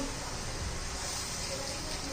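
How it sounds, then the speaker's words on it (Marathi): About a cupful of water pours from a mixer jar into a pan of vegetables, making a steady, continuous gushing splash that lasts the whole moment. "तर हे मी थोडंसं पाणी घालते"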